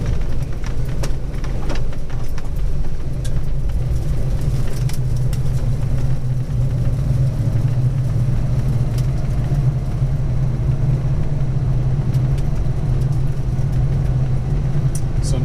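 A Ford Foxbody Mustang 5.0 pulls along a rough road in first gear around 2,000 rpm, a continuous low exhaust drone and rumble heard from inside, with a few small knocks and no talking.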